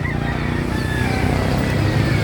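Fowl calls and a rooster crow rise over a dense, steady background of birds and outdoor bustle at a native chicken and gamecock market, moderately loud throughout.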